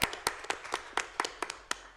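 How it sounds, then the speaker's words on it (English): A few people clap at a school district board meeting, with about a dozen distinct, sparse hand claps over two seconds in a quiet room and no one talking. "We want to clap on that one."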